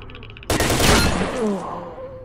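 A single loud, close shotgun blast goes off in S.T.A.L.K.E.R.: Shadow of Chernobyl, a sharp burst that rings out and fades over about a second and a half.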